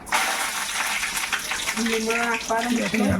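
Whole spices crackle and sizzle as a vaghar tempering hits hot oil for Gujarati kadhi, a loud, continuous close hiss with a voice speaking over it near the end.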